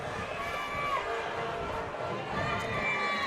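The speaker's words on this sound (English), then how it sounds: "Cheer hard, cheerleaders and students." A high school football crowd of students and cheerleaders makes a continuous distant roar of cheering, fairly faint, under an announcer's talk.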